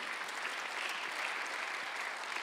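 A church congregation at a Thanksgiving Sunday service claps together in a dense, even burst of applause that fills the room and continues steadily throughout.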